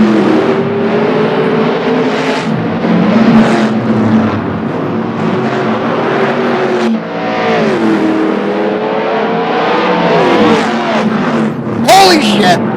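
A Chevrolet Nova drag-racing off the line and lifting into a wheelie, its engine roaring and climbing through gears, loud and close, with people talking over the noise.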